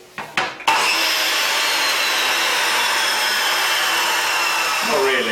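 A few brief knocks, then a loud, steady high-pitched whine of a power chop saw running continuously, easing slightly near the end.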